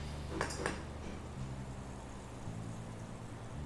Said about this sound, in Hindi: ये लीजिए कढ़ाई